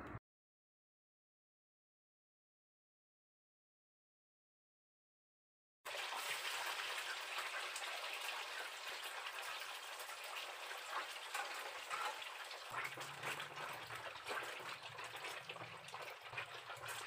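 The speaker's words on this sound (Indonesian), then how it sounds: "Goreng dulu tahu tu." Tofu frying in a pan, with a steady, dense sizzle and crackle starting abruptly after several seconds of silence and continuing loudly to the end, shifting slightly in texture partway through.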